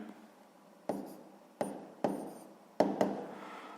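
Chalk or marker strokes writing the fraction one third on a board during a sixth-grade maths lesson, five sharp taps and scrapes spaced unevenly over a few seconds, close and fairly quiet with no talk.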